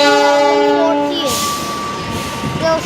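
A Jayabaya passenger train sounds its loud, multi-tone horn while passing Kampung Bandan station, a strong sustained blast that slides down and cuts off, followed by rumbling wheels and a brief second horn note near the end.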